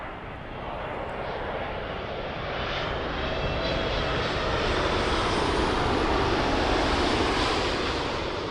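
A WestJet airliner on final approach to London Heathrow runway 27L, a broad steady engine roar that swells slightly as it nears, continuous and fairly loud with no talking.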